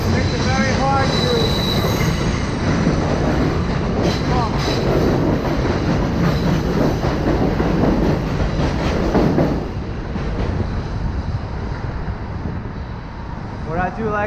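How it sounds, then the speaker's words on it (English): A New York City subway train rumbles loudly nearby, its wheels clattering and screeching in a continuous roar that eases slightly toward the end. "And again, with the subway noise, it makes it very hard to"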